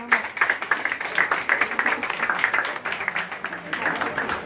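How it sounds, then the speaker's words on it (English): A crowd at an outdoor farm gathering gives a round of applause for a youth debate team. The clapping comes in a rhythmic, fairly loud burst, partly mixed with voices. "Give him a round of applause."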